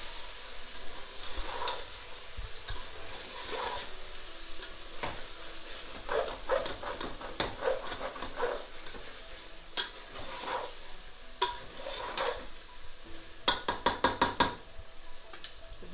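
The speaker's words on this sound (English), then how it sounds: "Come here and stir the pork as well." Belly pork frying for vindaloo is stirred in a pan, with a soft steady sizzle under repeated scraping and clinking of a utensil against the pan, ending in a quick run of sharp taps.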